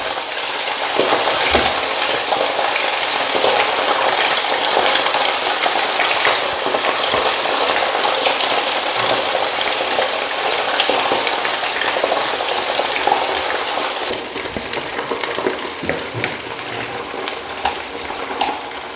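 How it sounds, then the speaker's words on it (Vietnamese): Chicken wings sizzle loudly in a pan of hot frying oil, a dense, continuous crackle that holds steady throughout with no talking. "Mình để cánh gà vô trong dầu thì bây giờ nó xèo xèo luôn rồi."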